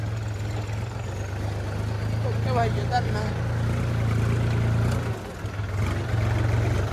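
A tractor engine runs in a farm field with a continuous low, steady drone and rumble. Someone talks briefly over it, and the engine dips slightly near the end.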